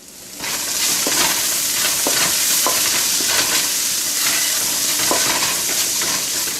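Chopped chipotles in adobo frying and being stirred in a pan for pulled pork, a loud steady sizzle with scraping stirring strokes throughout, no talk.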